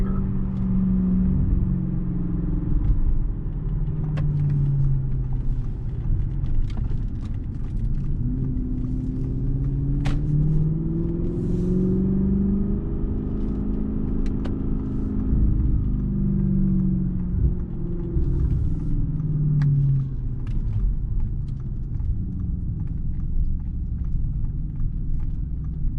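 Deep, steady engine rumble and exhaust drone from an Audi S8 D4 with exhaust cutouts in sport mode, holding gears as revs rise and fall in long sweeping swells, heard from inside, continuous and loud with no talking.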